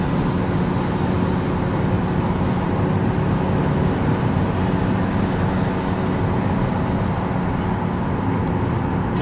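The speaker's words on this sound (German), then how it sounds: "Jetzt beschleunigen wir hier auf eine Geschwindigkeit von ca. 130, dann ist die Wandlerkupplung geschlossen." A car with an automatic transmission cruises up to about 130 km/h, giving a steady broadband roar of engine, tyres and wind that stays constant and fairly loud from the cabin.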